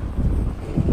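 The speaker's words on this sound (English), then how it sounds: "It's nice and windy today in Shinjuku." Wind buffeting a microphone on a street in Shinjuku, a loud low rumbling roar that fills the whole moment with no clear voices.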